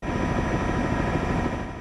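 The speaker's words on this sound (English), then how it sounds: "A Chinook helicopter then drops rescue climbers on the summit." A Chinook helicopter flying over Mount Hood during a search for lost climbers, a dense, steady rotor and engine drone that fills the sound alone and stays loud throughout.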